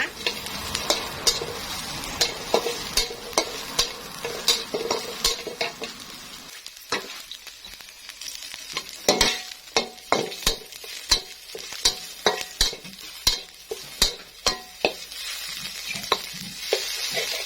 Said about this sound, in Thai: เราก็จะใส่กระเทียมกระเทียมเพื่อจะเจียวก่อนนะคะ